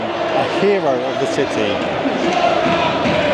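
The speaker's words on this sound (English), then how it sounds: "The Sevilla fans are not happy, man. Listen to the crowd." Sevilla football fans in a packed stadium make a dense, unbroken roar, with a commentator's voice speaking loudly over the crowd.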